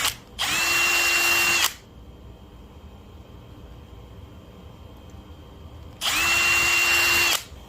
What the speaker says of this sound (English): So we're back to the 50 thousandths drill to do the final 2 holes in the long side of the arm.